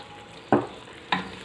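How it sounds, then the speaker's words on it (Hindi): A spoon stirs mutton with spices in a pot over a soft steady sizzle, giving two distinct scraping strokes about half a second apart. "सब चीज़ों को मिक्स करते हैं।"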